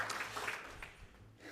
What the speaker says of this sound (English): Another round of applause for Taj and the ASE group.